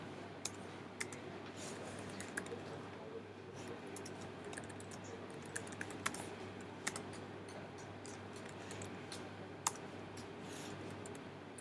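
Code being typed on a computer keyboard: steady, quiet clicking of keys with a few sharper taps, close by over a low constant hum, with no talking.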